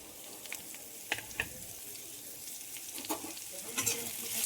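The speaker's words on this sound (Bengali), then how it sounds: "তেজপাতা, সামান্য গরম মশলা, এর সঙ্গে দিয়ে দিচ্ছি পেঁয়াজ কুচি।" Chopped onion frying in hot oil with dried red chillies, bay leaf and garam masala, a faint steady sizzle with occasional light stirring clicks, quiet and close, with no talking.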